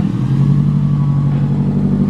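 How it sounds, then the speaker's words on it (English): A loud Toyota Supra engine rumbles and revs close by with a deep, throbbing exhaust note; no distinct backfire pops stand out. "Chris wants to do some little backfires."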